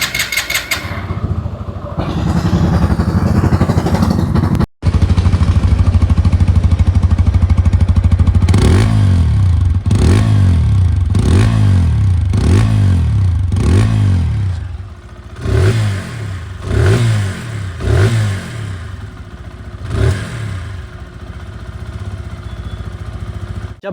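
A 2026 TVS Apache RTR 160 2V motorcycle idles loudly up close, then its engine is revved in a series of about ten quick blips, each rising and falling, before settling back toward idle.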